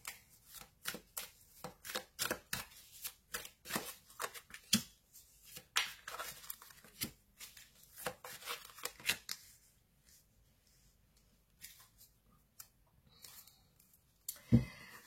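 Tarot cards shuffled for a reading, producing fast runs of soft riffling and flicking close by, quieter spells between them and a sharp tap near the end, with no talking.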